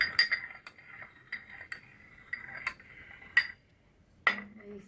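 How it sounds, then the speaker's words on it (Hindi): Spoon stirring salt into a homemade herbal decoction for coughs and colds, giving a series of light, close metallic clinks against the vessel in an irregular rhythm with quiet pauses between. "हम नमक को थोड़ा सा हिला दिए"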